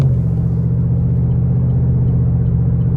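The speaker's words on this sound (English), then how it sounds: "it sounds good, whatever exhaust this is." A 2012 Chevrolet Camaro SS convertible with an aftermarket exhaust gives a steady, deep, loud rumble while driving, heard close and continuous with no talk over it.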